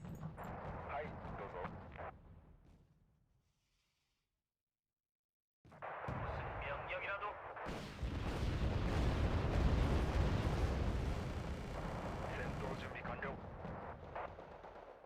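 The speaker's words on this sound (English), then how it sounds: "Get another mortar." Mortar and artillery fire in the Wargame: Red Dragon video game, with heavy rumbling blasts and a sustained roar of explosions after a brief silence, loud and dense, with someone talking at times.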